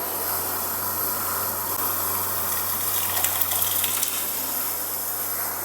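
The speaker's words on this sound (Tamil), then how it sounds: "சாம்பார் எந்த அளவுக்கு தண்ணி வேணுமோ அந்த அளவுக்கு தண்ணி ஆட் பண்ணிக்கோங்க" Water gushes steadily into a pot of hotel-style sambar with cooked dal, a continuous close hissing pour over a faint low hum, with no talking.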